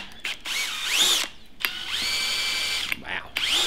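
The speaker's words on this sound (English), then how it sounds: "we'll drill ourselves a hole" A power drill bores through thin tin on an old fridge being turned into a beehive, whining up in pitch in several short bursts separated by brief pauses.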